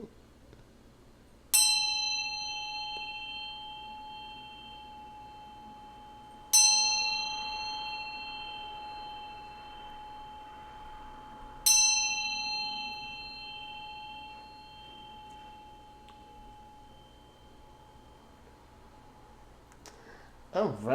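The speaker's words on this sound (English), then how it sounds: "there's just going to be a bell tone" A bell tone rings out three times at even intervals of about five seconds, each strike clear and bright with a long, smooth, fading ring, in otherwise quiet surroundings.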